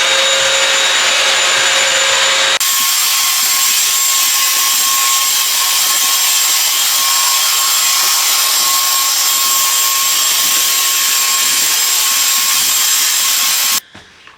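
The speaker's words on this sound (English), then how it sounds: "it's picking up the trash on the floor like a vacuum cleaner and mopping it at the same time" Wet-dry floor cleaner vacuum running continuously while vacuuming and mopping a floor, a loud, steady motor whine and airflow rush that shifts pitch early on and cuts off near the end.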